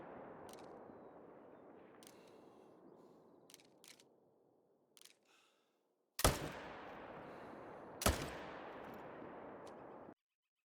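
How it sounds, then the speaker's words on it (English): Rifle shots ring out while hunting in the video game Call of the Wild: two loud, sharp cracks a couple of seconds apart, each trailing into a long echoing tail, after quieter rustling and small clicks. "We want to be taking as many shots as we can."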